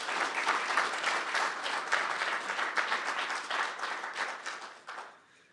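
Audience applause welcoming photographer Brian Ulrich to an art talk, steady dense clapping from a crowd for about five seconds before fading out at the end.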